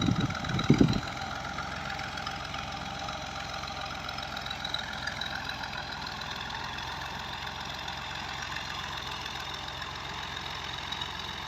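A 2015-model Ghazi tractor fitted with a back blade idles nearby. Its low, steady drone runs evenly for the whole stretch, with a brief louder thump near the start and no voices.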